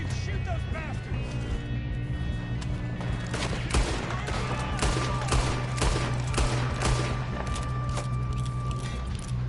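Gunfire rattles in a Red Dead Redemption 2 story-mode shootout, dense repeated shots and bursts over a steady loud game background, with voices talking in the mix.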